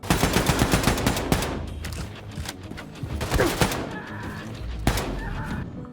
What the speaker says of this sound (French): En passant par le classique pistolet mitrailleur, notre petit fusil d'assaut,